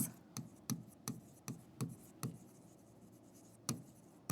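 Pen or pencil writing by hand on paper during a Class 10 life science lesson, heard as a series of short scratchy strokes at a steady rhythm, close and fairly quiet, with no talking.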